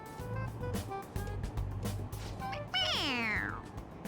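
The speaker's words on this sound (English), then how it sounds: "It meows when you press on its head." A toy cat from Persona 5 Royal gives a single bright, falling electronic meow when pressed on its head, clear over steady game background music.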